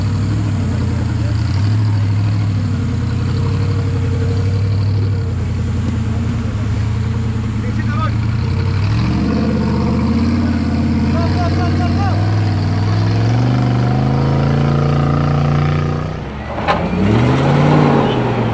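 A redesigned racing team car engine drives across a water crossing at the Spirit of the Charge event, a steady close engine drone with rising revs and a burst of splashing near the end, while a narrator talks throughout.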